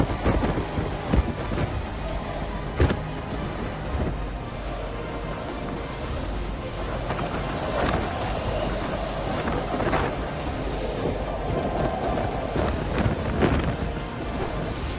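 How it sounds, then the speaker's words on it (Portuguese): Strong storm wind roars across a harbour in Norway, buffeting the microphone in loud, uneven gusts with scattered sharp knocks and a constant heavy rush underneath. "pelo som do vento, podemos entender que esta é uma verdadeira tempestade"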